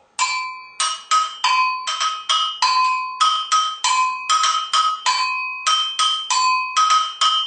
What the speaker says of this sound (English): we hit the bottom bell